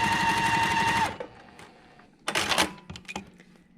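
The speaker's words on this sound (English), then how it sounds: "And then I'm going to stitch on the line." A sewing machine stitches along a marked line on small quilt block pieces. A fast, close mechanical whir runs for about a second, then stops, followed by a few quieter clicks and a short rattling burst.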